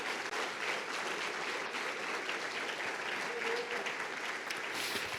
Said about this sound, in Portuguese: Aí aplaudir, aplauda forte.